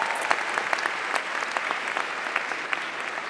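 An audience at a college commencement ceremony claps steadily, a dense, even wash of many hands that carries on throughout without cheering or speech.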